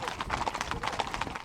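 Horses clip-clop steadily on a trail during a large horse drive through the small town of Maybell, Colorado, a dense close rhythm of hoofbeats with a voice faintly mixed in.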